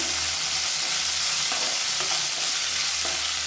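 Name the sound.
sautéing adamant creeper (pirandai) in oil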